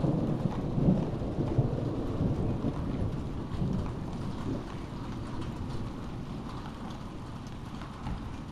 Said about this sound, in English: You can see the lightning and hear the thunder going on